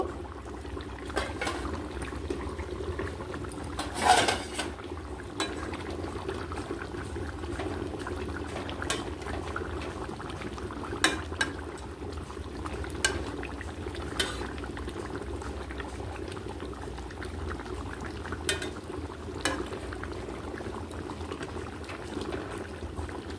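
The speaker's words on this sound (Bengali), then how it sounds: "কিছুক্ষণ একটু ফুটিয়ে নেব" A ridge gourd and hilsa fish curry simmers in a pan, giving a low, steady bubbling close by, broken by occasional soft clicks and knocks, with no one speaking.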